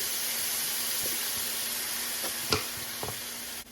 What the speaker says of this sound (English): now I'm going to add a half a cup of soy sauce